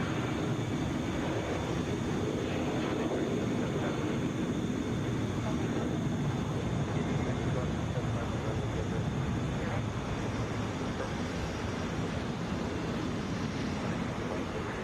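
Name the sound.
airliner at Atlanta International Airport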